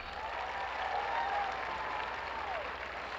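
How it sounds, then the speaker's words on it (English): Audience applause at a welcome event for a university's incoming class, a dense steady wash of clapping from a large crowd, sustained and even with no talk over it. "Give yourself a round of applause."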